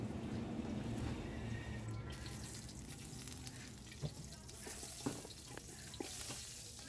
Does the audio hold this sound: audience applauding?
no